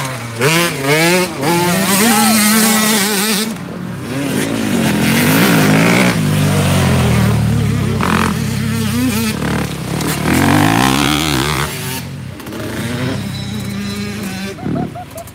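A loud motocross bike engine roars and revs near at hand on a training track, its pitch climbing and falling through repeated throttle bursts, strong and continuous throughout with a few brief dips.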